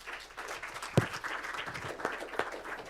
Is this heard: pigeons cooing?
no